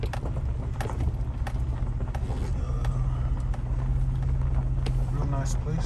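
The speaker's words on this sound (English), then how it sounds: "Looks like we're towing it pretty good." A pickup truck tows a 1985 K5 on the road, giving a steady, continuous low rumble of engine and tire drone with no breaks.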